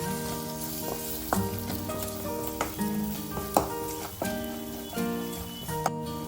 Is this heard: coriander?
yes